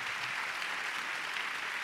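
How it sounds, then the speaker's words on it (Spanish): A church congregation claps steadily and evenly throughout, a dense wash of applause with no voices standing out. "Le damos un aplauso a Isis."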